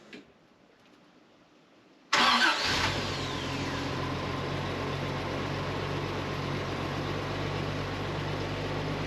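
A 36-year-old Toyota Land Cruiser 60 Series cold-starts after sitting a day: near silence, then a loud catch and roar at about two seconds, settling into a steady, loud idle that runs to the end with no talk over it.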